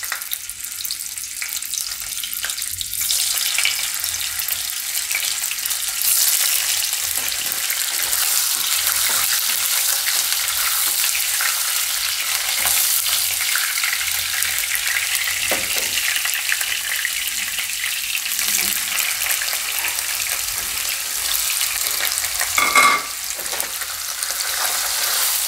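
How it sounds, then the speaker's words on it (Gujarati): Cubes of paneer fry in hot oil over a low flame, giving a loud, dense, unbroken sizzle that carries on steadily with occasional faint clinks and no talking. "આ રીતે આપણે થોડુંક કલર ચેન્જ થાય એવું આપણે શેકી લઈએ."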